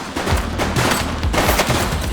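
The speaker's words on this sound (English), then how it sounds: "He's shooting!" Rapid bursts of gunfire from the video game The Precinct, a loud fusillade of overlapping shots and automatic fire filling the whole stretch with dense, punchy cracks and no pauses.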